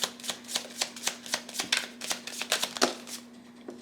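A deck of astrology cards being riffled and shuffled by hand, a rapid run of crisp flapping bursts about four per second, close and alone, trailing off at the end.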